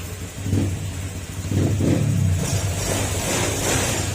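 A Click motorcycle engine idles and revs up in a couple of surges, close by and fairly loud.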